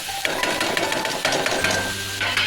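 Taro leaf stems are stirred into a mixture in a pan with a spoon, giving repeated scraping knocks in an uneven rhythm over a soft sizzle, close and fairly loud.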